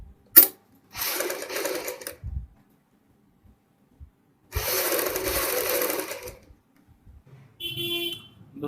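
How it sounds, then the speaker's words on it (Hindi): An electric sewing machine stitches a collar strip onto a kurti in short bursts, a buzzing whir running for about a second, then a longer run, with quiet gaps and a few small clicks between. "सेम यहाँ पे दूसरी सिलाई भी किनारे की साइड लगाएंगे"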